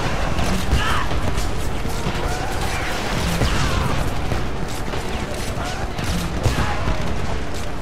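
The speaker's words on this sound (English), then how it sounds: "Did I just shoot a grenade?" A grenade launches amid dense, continuous combat noise in the Homefront shooter game, with gunfire, blasts and clatter filling the scene at high volume and no pauses.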